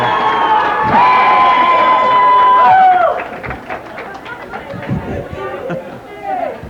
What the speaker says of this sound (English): As the crowd goes wild for the